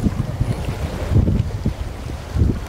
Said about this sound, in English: And listen to the ocean that is very calm today.